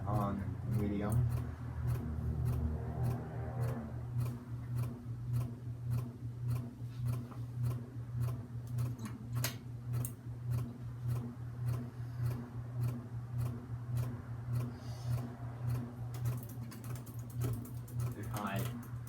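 An SMC Park Avenue III ceiling fan running on medium speed hums steadily while wobbling, with a regular, even ticking throughout, close by and with some talk alongside.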